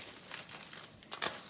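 A plastic bag of coleslaw mix crinkles open in a few quick, soft rustling bursts, the last crackle the sharpest, with no talk over it.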